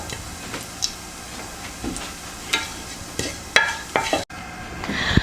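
Cumin seeds toast in a dry pan under constant stirring, giving scattered light scrapes and ticks over a soft sizzle with no talking.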